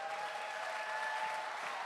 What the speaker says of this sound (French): Nos applaudissements pour les mamans, s'il vous plaît.